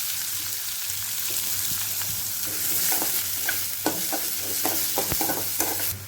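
Onions frying in oil with mustard seeds and green chili, a constant close sizzle with light crackles and a run of sharp spoon taps and scrapes in the later seconds, no talk.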